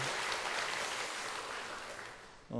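A church congregation applauds its choir during a Sunday worship service, a dense, steady wash of clapping from many hands filling the room, then fading toward the end.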